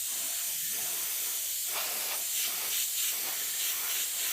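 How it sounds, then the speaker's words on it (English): Airbrush spraying a coat of UVLS matte varnish onto a painted miniature, a continuous airy hiss that swells in short pulses as the coat goes on, with no talking. "So I'm just going to put a little UVLS matte in my airbrush and just give it a nice even coat."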